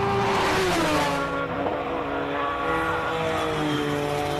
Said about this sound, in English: the car sounds like it misfires so badly